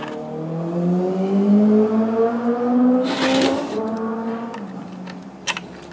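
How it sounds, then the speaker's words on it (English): A motor vehicle passes outside on a daytime road, its engine tone rising and sweeping past with a whoosh near the middle, then fading, with a few small knocks nearby afterward. "You'll have to excuse the traffic, it's the middle of the day."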